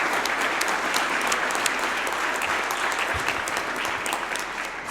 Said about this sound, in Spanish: Demos un aplauso a este primer bloque.